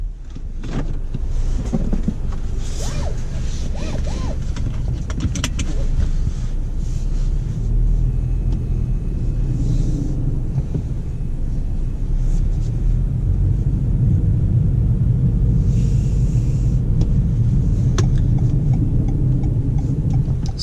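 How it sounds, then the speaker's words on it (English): A 2019 Toyota Corolla XSE driving on the road, heard from inside the cabin as a steady, loud engine and road rumble that continues without break. "We're gonna take this thing out for a little spin"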